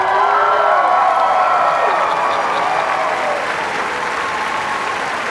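A large audience at a university freshman convocation applauds. The dense, steady clapping sounds loud and continuous throughout, and a faint tonal hum sits under it.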